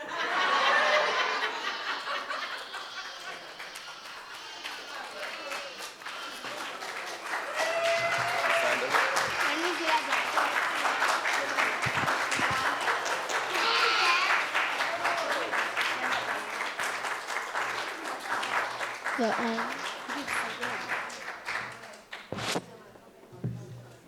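An audience breaks into sustained applause, clapping strongly for a long stretch, mixed with scattered chuckles and laughter before tapering off into a few last claps.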